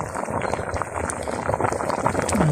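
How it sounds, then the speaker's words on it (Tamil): Stingray fish curry bubbling as it boils in a clay pot outdoors in a village, a steady churning simmer that builds slightly toward the end, close and continuous with no talking. "அப்படி சும்மா தக்க தக்கண்டு கொதிக்குது."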